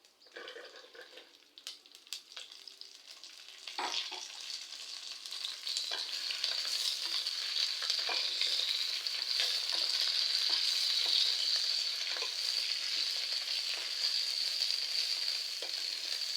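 Fresh broad beans sautéing in a pan with chilli and curry leaves, a bright steady sizzle that swells after a few seconds and holds continuously, with occasional scraping taps of a spoon.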